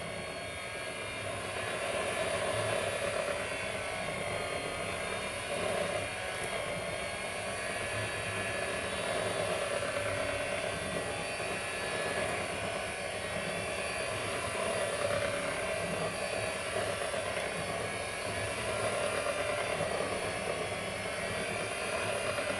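An electric mixer whips vanilla cake batter with milk, giving a steady, close whirring motor drone that runs unbroken for the whole stretch with no voices.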